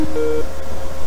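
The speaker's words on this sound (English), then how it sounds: "Sorry about that phone call that came through on Skype." Skype incoming-call tone: a short pair of clean electronic beeps, the second held a little longer, over a steady background hum.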